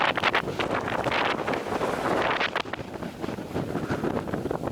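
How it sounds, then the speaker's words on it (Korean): Strong wind roars across a mountain backpacking campsite on Unjangsan, heard as loud, continuous gusts that buffet the microphone with a rough rushing noise throughout, with no talking. "바람 미쳤다리 진짜"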